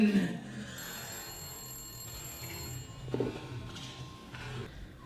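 A thin, steady electronic ringing tone from a box sounds for a couple of seconds over low room noise, fairly faint and unbroken.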